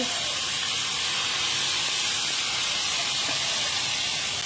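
A hot stir-fry pan of tofu hissing loudly as a little water is drizzled in, a dense, steady sizzle of steam that holds close and constant throughout.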